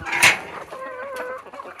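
Chickens cluck nearby as they gather to be fed rice, opening with a sharp squawk and then a run of short, throaty clucks from several birds, with no talking.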